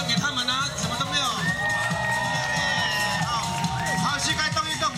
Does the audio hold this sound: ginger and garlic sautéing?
no